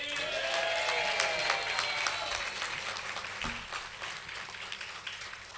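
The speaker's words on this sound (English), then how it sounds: "I believe everyone requires a huge round of applause" Audience applause at a graduation ceremony in Kolkata, steady clapping from a crowd that gradually tapers, with sustained musical tones beneath and a single thump partway through.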